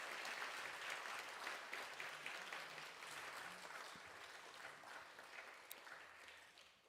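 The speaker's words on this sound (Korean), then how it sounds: "박수하겠습니다." A church congregation at a Friday evening prayer meeting applauds to welcome a guest speaker; steady, fairly faint clapping from many hands fills the whole stretch, gradually thinning toward the end.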